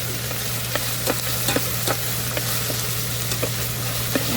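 Garlic and onion sizzle steadily in a hot pot for beef stroganoff, a constant close frying hiss with faint occasional pops and stirring ticks and no talking.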